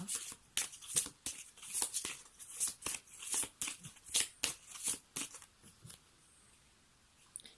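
Tarot cards shuffled by hand in a series of quick rhythmic riffling bursts, close and fairly soft, tapering off near the end.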